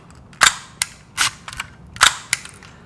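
A DSLR camera shutter firing repeatedly, sharp close mechanical clacks in irregular pairs and singles over a quiet background.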